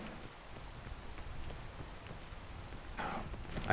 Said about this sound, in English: this freaking rain, I swear to God.